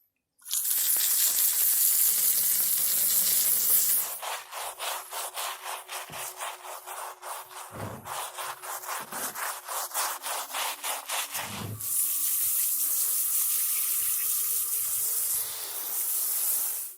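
Druzy quartz rocks are washed under running water: a steady hiss of flowing water, then a stretch of rhythmic rough scrubbing strokes against the stone, and the water hiss returns near the end.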